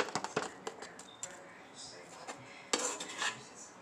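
Rice is served onto a dinner plate with utensils, making light scrapes, taps and metallic clinks against the dish, close but soft, with a faint voice in the background.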